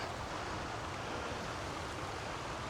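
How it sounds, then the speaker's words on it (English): Heavy floodwater from an overflowing creek rushes into a drainage pipe on rural property, a steady, dense broadband roar of pouring, churning water that stays loud and even throughout, with no voices over it. "That's a lot of water. Look at how it's going into this pipe."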